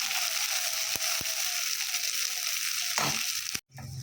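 Green and ripe chillies frying in hot oil for a cauliflower-leaf paste, a steady broadband sizzle throughout with a few sharp clicks and a short clatter near the end, no talking.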